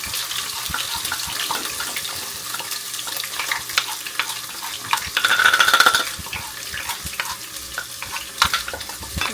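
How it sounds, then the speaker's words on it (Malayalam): Ginger and garlic sautéing in a home kitchen pan, a continuous crackling sizzle with scraping stirs, briefly louder midway, with no voices. "ഇഞ്ചി വെളുത്തുള്ളി ഒന്ന് സോട്ട് ചെയ്ത് കൊടുക്കുക."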